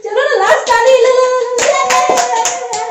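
A small group claps by hand at a home wedding anniversary celebration. The claps come as scattered, uneven strikes under steady singing and voices throughout.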